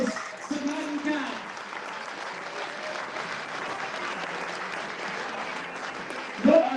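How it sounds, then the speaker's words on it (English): Crowd applause for a newlywed couple at the presentations of a firefighter stair climb event, steady, moderately loud clapping with a few scattered voices and cheers rising at the start and near the end. "So everybody give a round of applause to Matt and Pat."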